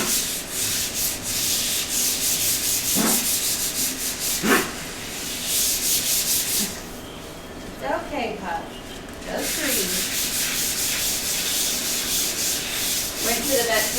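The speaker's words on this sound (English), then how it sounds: "Doing one more quick sanding." Hand sanding with 220 grit sandpaper, smoothing a surface for alcohol inks: loud, close, rhythmic rasping strokes that pause briefly midway, while a person speaks softly.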